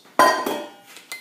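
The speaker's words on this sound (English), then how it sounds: "Give it a stir." A spoon clinks sharply against a cup while a hand-brewed latte is stirred, giving a few quick metallic taps. The taps are close and fairly quiet, with no voices.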